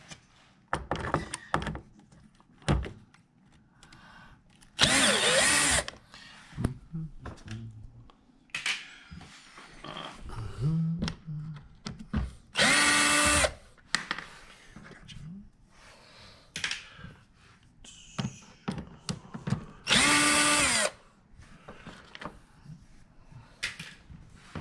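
A power drill unscrews screws from an automower in three short, loud whirring bursts, separated by quieter clicks, taps and handling noises nearby.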